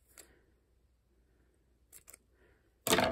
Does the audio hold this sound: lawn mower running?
no